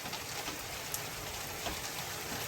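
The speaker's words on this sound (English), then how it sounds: "all I could hear was the rain hitting against the window" Steady rain pattering against a window late at night, a dense even hiss of drops with a few slightly louder taps, close and continuous with no voices.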